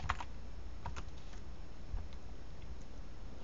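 Quick typing of a project name on a computer keyboard, a few soft clustered key clicks in bursts separated by pauses, close and quiet with no talk.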